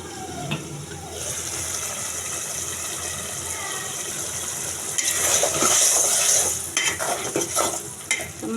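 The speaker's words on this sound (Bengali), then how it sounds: "এবার আমি মাছের মাথাগুলো দিয়ে দিচ্ছি, আগে থেকে কুটে দিয়ে মাছের মাথা।" Rohu fish heads frying and being stirred in a pan for a curry with ash gourd: a constant sizzle that swells louder midway, with clattering scrapes and knocks against the pan.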